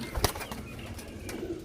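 Desi pigeons kept for sale produce faint, soft cooing and a brief flutter or knock early on against low background noise, heard at a moderate distance.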